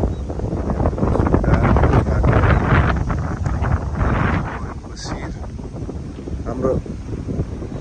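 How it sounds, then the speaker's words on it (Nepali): Morning wind gusts across the Marin river, buffeting the microphone in a loud, continuous low rumble that swells and eases, while someone speaks over it. "यो चाहिँ मरिन खोलाको हावा चलेर"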